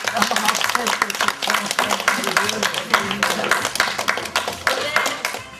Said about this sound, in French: Merci, bravo, on peut applaudir encore